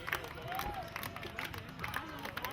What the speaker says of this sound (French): accueillis par une foule en liesse pour l'occasion